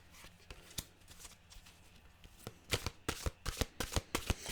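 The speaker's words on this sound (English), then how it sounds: "let's get a mantra card" Tarot cards shuffled close up in a quiet room, soft scattered riffles at first, then a quicker run of crisp, loud card snaps toward the end, with no talking.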